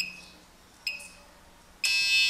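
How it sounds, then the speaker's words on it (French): Buzzer on an Arduino keypad door lock beeps to confirm code entry: two short high tones, then a longer, louder beep that runs to the end, with a quiet room behind. "vous entendez un petit peu le buzzer indiquant que le code est introduit"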